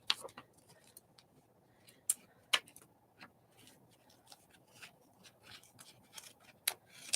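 Scissors snip through craft material in a quiet room during a cleanup session, a scattered series of short, sharp, close clicks with uneven gaps, fairly faint and alone.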